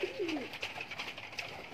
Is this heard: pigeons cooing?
yes